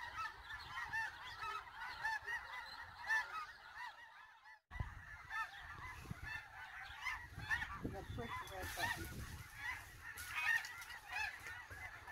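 A flock of geese at the Salton Sea wildlife refuge honks continuously in a dense, overlapping chorus, with a brief drop-out midway before the calls resume alongside wind and low rumbling.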